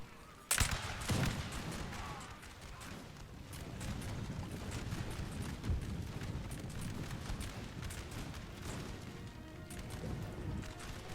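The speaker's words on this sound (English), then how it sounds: "maybe as many as 5 regiments fire upon them" Rolling musket volleys from several regiments crash out in a Napoleon Total War battle, a dense, continuous crackle of gunfire with one sharp loud burst near the start, carrying on steadily throughout.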